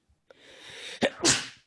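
A single loud, close sneeze, with a sharp intake of breath and then an explosive burst, with no talking around it.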